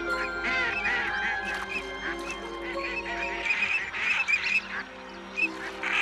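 Flocks of ducks in the Doñana marshes at winter's end give off a chorus of honking, quacking calls, overlapping and fairly close, with some calls rising louder in bursts toward the end.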